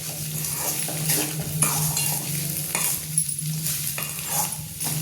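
Cucumber poha being mixed by hand in a pot, giving a steady soft rustling and stirring with faint clinks of a vessel, continuous and close with no talking.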